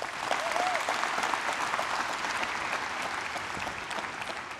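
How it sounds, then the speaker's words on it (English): A conference audience at a Parkinson's community event claps in a big round of applause, a steady, even wash of many hands from a moderately distant room. A brief voice sounds early, under the clapping. "Another big round of applause."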